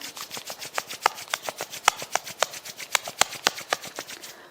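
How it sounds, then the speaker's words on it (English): Palms rubbed briskly together during a yoga class, giving a fast run of soft, scratchy strokes in a steady rhythm, close and alone with no talk. "Join your both palm, rub your palm."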